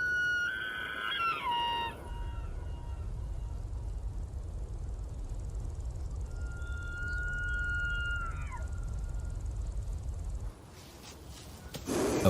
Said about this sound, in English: A bull elk.